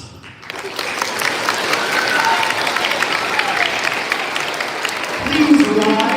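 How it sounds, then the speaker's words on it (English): An audience at an elementary school Veterans Day ceremony applauds after the Honor Guard salutes, a dense, steady burst of clapping that swells slightly toward the end. "Round of applause."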